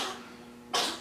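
A cat gives a short, sharp cough near the end, following a faint raspy breath, in a quiet indoor space.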